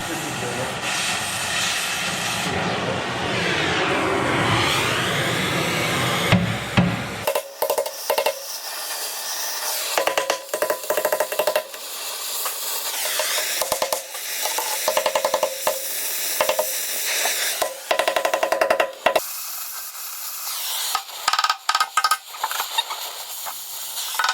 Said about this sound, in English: we're just gonna torch off the bolts that are holding on